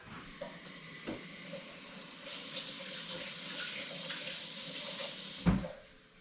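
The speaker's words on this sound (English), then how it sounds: "we'll wash my hands from that." Tap water runs steadily into a kitchen sink as hands are washed after handling a turkey brine with ice, a soft continuous splashing hiss with a few light knocks and a louder clunk near the end.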